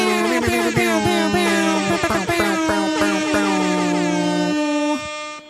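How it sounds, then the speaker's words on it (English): Loud, blaring air horn blasts stack together in a dense, continuous honk, with short rhythmic bursts layered over a sustained tone before it cuts off. "Another year, another May the 4th air horn moment."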